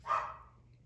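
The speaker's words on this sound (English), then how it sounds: "Oh, now she's got my other dog barking." A dog indoors gives one short, fairly loud bark that quickly fades into a quiet room tail, with no other voices.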